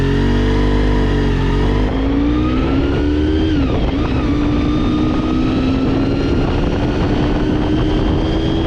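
A 1990 Honda VFR400R NC30 motorcycle roars loudly up close as it is ridden, its engine revving and climbing in pitch through the gears, with a steady harmonic whine and a brief dip as it shifts, then holding high revs.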